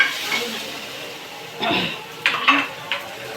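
Spoon stirring ice cream powder in a bowl, several short scraping clinks and knocks against the container, close and fairly loud, with faint voices in the background.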